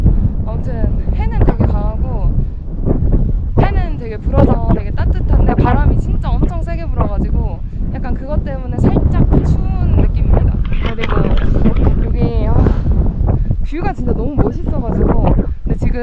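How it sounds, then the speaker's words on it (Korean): Strong wind gusts buffet the microphone at a mountain lake viewpoint 4,200 m up in Peru, a rough low roar running under continuous close talking. "여기가 바람이 많이 불어서 그런가?"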